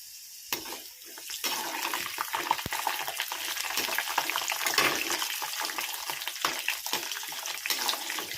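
Peanuts roast in hot oil for a tamarind curry, producing a busy, crackling sizzle that starts after a short quiet moment and continues fairly steadily, with scattered sharp pops throughout.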